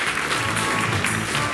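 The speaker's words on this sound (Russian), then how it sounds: "Ваши аплодисменты." Steady, dense applause fills a hall at a district KVN comedy team contest, with many hands clapping together in a loud, continuous wash and no pause.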